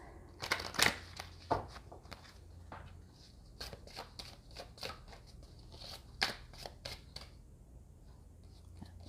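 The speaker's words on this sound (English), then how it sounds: "let's get shuffling these" Close, crisp tarot card shuffling: irregular bursts of riffling and slapping cards, some sharper and louder, with soft rustling between them.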